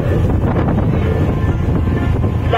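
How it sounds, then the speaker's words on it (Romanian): Strong wind buffeting the microphone in a steady low roar, with the faint sound of a boat on open water off Spinalonga island, Greece. "Bate un pic vântul, să nu sper că nu o să vă ude"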